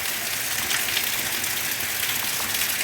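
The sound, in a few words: monsoon rain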